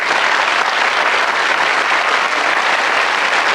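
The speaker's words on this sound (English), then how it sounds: "Round of applause, please, for both teams." Studio audience applauding both teams at the close of a television murder-mystery game show, a loud, dense and even burst of clapping that carries steadily throughout without talk.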